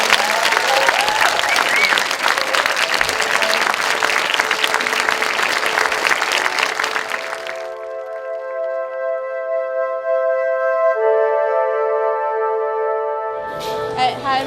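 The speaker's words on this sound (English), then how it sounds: "let's give a big round of applause to the wonderful Sarah Waters" A festival audience gives author Sarah Waters a loud, dense round of applause for about half the time, then it cuts to sustained electronic tones that hold steadily, with no talking.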